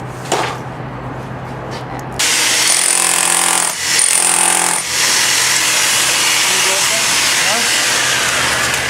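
Hammer breaking spalled, cracked concrete off an apartment balcony floor, sounding as a loud, dense, continuous hammering clatter with a steady noisy wash close up, briefly dipping mid-way before resuming.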